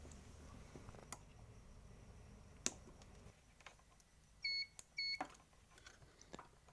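Multimeter continuity tester on a perf board circuit built from a recycled laptop power brick, giving two short high beeps close together amid faint clicks and taps of probes.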